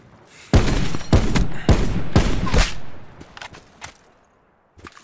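Loud, close bursts of automatic gunfire from a gun in Call of Duty Blackout on PC, several rapid volleys in quick succession, followed by a few fainter distant shots.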